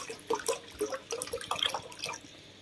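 Water poured into a pot while cooking splashes and trickles in soft, irregular bursts for under three seconds, quiet and close, with no talking.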